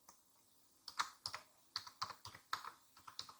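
Computer keyboard keys typed in a quick, uneven burst of about a dozen crisp clicks while a file name is entered, close and fairly quiet over a faint steady hum, with no talking.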